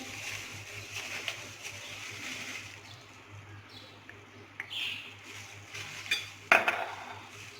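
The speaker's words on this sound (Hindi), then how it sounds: "ये सारी चीज़ें एक बर्तन में हम डालते जाएंगे, इनको खिला लेंगे।" Ingredients for a chicken marinade go into a pot and get mixed, making faint, quiet scraping and stirring with light clinks of utensil on metal. A sharper clink and clatter come near the end, and no one speaks.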